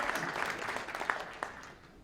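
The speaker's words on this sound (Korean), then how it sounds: "박수로 격려합시다" Audience applause at a New Year prayer breakfast of a Gyeonggi Christian council, a soft, diffuse patter of many hands spread through a large room, fairly faint and fading toward the end.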